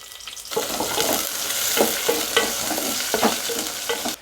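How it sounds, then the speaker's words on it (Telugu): Chopped onion and green chillies sizzle loudly in two tablespoons of hot oil in a cooking pot, the steady frying broken by repeated stirring scrapes. "ఆయిల్ హీట్ అయ్యాక కట్ చేసుకున్న ఆనియన్ గ్రీన్ చిల్లీ వేసుకోవాలి"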